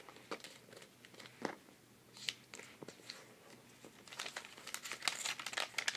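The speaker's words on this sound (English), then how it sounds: "fold all the four corners to the center, like so." Origami paper being folded into a plate, with close, quiet crinkling and crisp creasing rustles that come in irregular bursts and grow busier toward the end.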